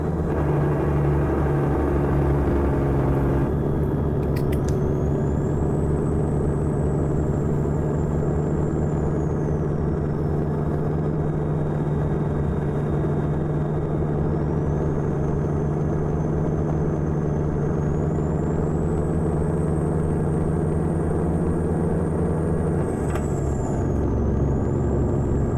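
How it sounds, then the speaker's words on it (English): Truck engine in American Truck Simulator, a Kenworth A-Model running an NTA 855 engine sound mod: steady, deep droning rumble throughout with a faint whistling whine above it and a brief click partway through. "We're using one of my favorite engine sounds, which is Slav Jerry's NTA 855."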